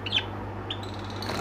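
Budgerigars in a bird shop give two short, sharp chirps, one early and one midway, over a low, constant room hum, fairly faint and without speech.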